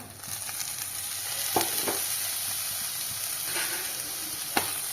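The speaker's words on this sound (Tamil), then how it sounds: "அதை சேர்த்துட்டு சும்மா ஒரு நிமிஷம் கலந்து விடுங்க" Washed curry leaves are stirred and sautéed in a hot pan for thuvaiyal, giving a steady, close sizzle with a few light spoon scrapes and taps.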